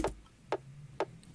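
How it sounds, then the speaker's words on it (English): A short top kick drum sample for an electronic production, heard as three sharp clicky transients spaced about half a second apart, dry and percussive with no other sounds around them. "So the top kick sounds like this."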